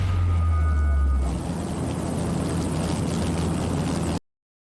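Helicopter rotor and engine drone, a steady loud whirring with rapid blade chop, heard alone with no talking over it, cutting off abruptly at the end.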